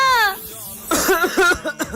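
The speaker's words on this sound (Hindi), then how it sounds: "अबे खांसने का नाटक क्यों कर रहा है?" A boy fakes a cough in a classroom, giving a few short, voiced, choppy coughing bursts after a brief higher vocal tone, close and fairly loud.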